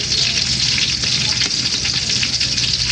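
Battered squid rings deep-frying in hot oil, a dense, steady, close sizzle and crackle throughout with no pause.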